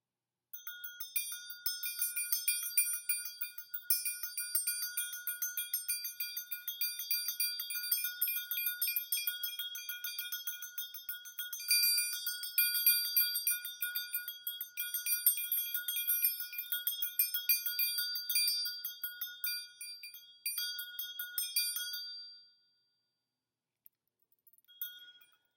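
Bright, high bells ring in a continuous shimmering jingle for about twenty seconds, then stop, leaving near silence with a couple of faint taps.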